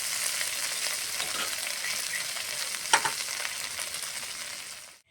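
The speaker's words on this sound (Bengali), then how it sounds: "একটু নাড়াচাড়া করে নেব।" Mud eel (lata fish) fries in a pan as it gets stirred, giving a steady close sizzle with a sharp scrape near the middle, fading out at the end.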